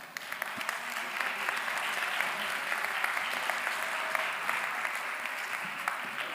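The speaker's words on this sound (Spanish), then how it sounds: "Venga, sin timidez, vamos, esa es la actitud, un aplauso." A live audience applauds volunteers at a Spanish-language branding talk, with steady, dense clapping filling the whole stretch at a fairly even level and no speech on top.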